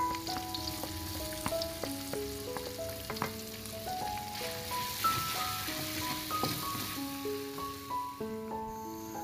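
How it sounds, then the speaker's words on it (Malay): Chopped shallots, garlic and ginger sizzle and crackle steadily in hot oil, with occasional scraping of a spatula stirring the pan, no voices. "tumiskan bawang merah, bawang putih dan juga halia yang telah dicincang tadi"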